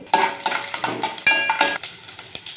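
Oil sizzles steadily in a pan while a spoon scrapes and stirs lentils and chilies in repeated short strokes, close up.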